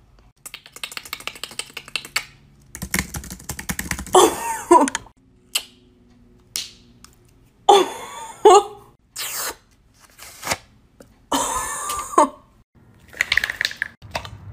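A human voice imitates sound effects beatbox-style, making a string of clicks, pops, hisses and wailing bursts in irregular spurts with short silences between them, close and loud.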